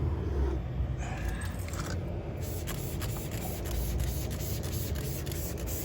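RVP dressing sprayed onto truck wheels, a continuous close hiss with rubbing and scraping textures layered over steady background noise.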